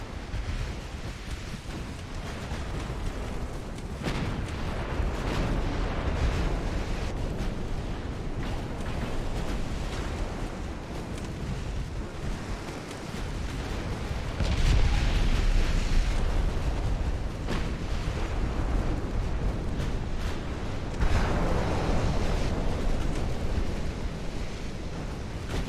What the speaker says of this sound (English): his 9-inch guns are doing more damage to us than our freaking 12-inch guns are doing to him